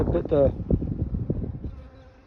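Close, low buzzing of honey bees around a hive, a dense droning hum with a few louder passes near the start, fading slightly toward the end.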